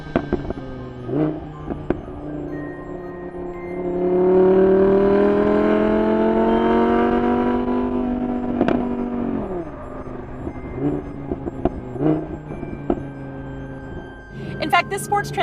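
An Audi R8 Plus V10 engine wails as it revs up through the gears, then drops with rev-matched blips on downshifts, loud and close inside the car with a voice talking over it at times.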